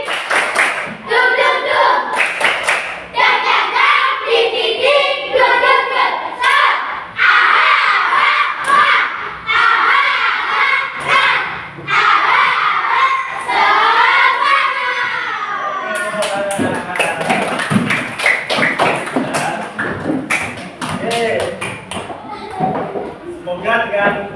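A school class in Indonesia claps out a rhythmic energizer cheer with chanting voices, loud and close, the clap patterns repeating in bursts with children shouting between them.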